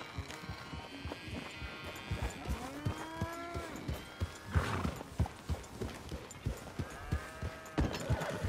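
Horse in Red Dead Redemption 2: steady clip-clop of hooves throughout, broken by a couple of drawn-out whinnies near the middle, fairly close and clear with no talking.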